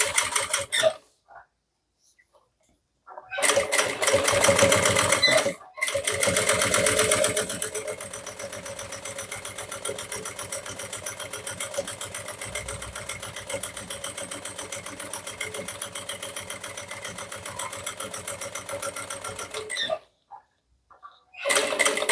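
A sewing machine runs steadily and close while topstitching a handmade bag, a long continuous rhythmic whir after a few brief starts, ending abruptly.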